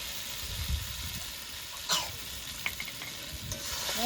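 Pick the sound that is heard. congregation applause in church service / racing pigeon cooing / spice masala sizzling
spice masala sizzling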